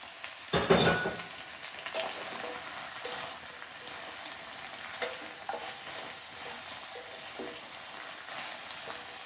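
Fried paneer cubes tipped into a hot pan for chilli paneer, giving a brief loud sizzle and clatter, then softer scraping stirs and light frying crackle continuing through.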